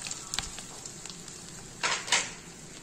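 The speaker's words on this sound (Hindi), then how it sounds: "घी हमारा मेल्ट हो गया है। अब इसमें हम ये देसी गंदम का आटा 500 ग्राम ये शामिल कर लें" Desi whole wheat flour, 500 grams, sizzles softly as it fries in melted ghee for halwa, a faint steady crackle with a few louder scraping stirs near the end.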